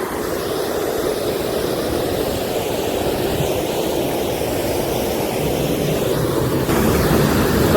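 A flooded Panam river in monsoon rushes over a dam, a dense, constant roar of churning water heard close and loud without a break, with no voices.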